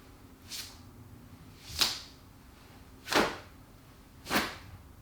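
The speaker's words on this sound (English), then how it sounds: "For level 3, we have what I like to call swishing." Four quick airy hand swishes, spaced about a second apart, each a short sharp whoosh standing alone against quiet background.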